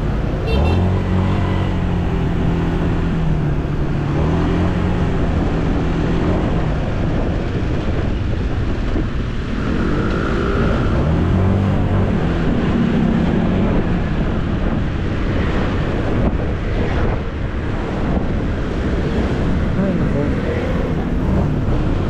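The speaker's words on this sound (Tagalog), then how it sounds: "Marami rin sasakyan ngayon mga kadudoy" Road traffic with many cars passing, a constant rushing roar with gusts of wind noise on the microphone, while someone talks over it throughout.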